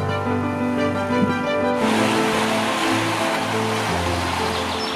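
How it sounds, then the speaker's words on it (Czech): Rain falls steadily during a bike ride along the Morava river, a broad even hiss over a low hum that grows noticeably louder partway through. "A začalo pršet."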